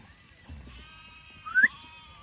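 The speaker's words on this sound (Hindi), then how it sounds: "और ये देखो इस साइड से आई भेड़ें।" A flock of Gaddi sheep arriving in a Himachal forest gives a faint bleat that rises near the end over low background noise, with other animal sounds at a distance.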